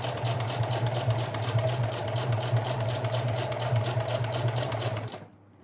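A sewing machine running a basic straight stitch, its needle chattering in a fast, even rhythm close by for about five seconds before it stops suddenly.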